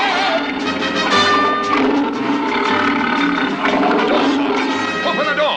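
A cartoon lion in a 1966 circus episode roars loudly and repeatedly, with broad, rasping bursts filling the whole stretch at close range.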